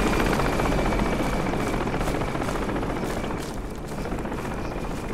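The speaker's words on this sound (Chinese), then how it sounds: "直升机都暴露你的位置了" Helicopter flying in the Project Reality military game, a loud, continuous rotor thrum with fast chopping pulses and broad engine roar, holding steady close by before easing slightly, with no talk over it.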